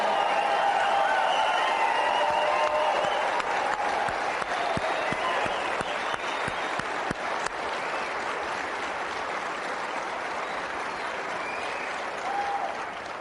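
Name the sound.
audience applause at Tea Party Patriots Summit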